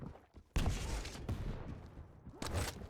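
Rocket launcher blasts in a competitive Quake match, a couple of loud, broadband explosions with rumbling tails, separated by a short lull.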